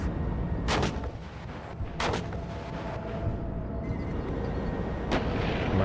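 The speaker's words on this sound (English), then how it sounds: "My Abrams are firing away, trying to take out the T-64 BV." Abrams tanks fire their main guns in the real-time strategy game WARNO: three sharp, booming cannon shots spaced a second or more apart, with the battlefield rumbling steadily underneath.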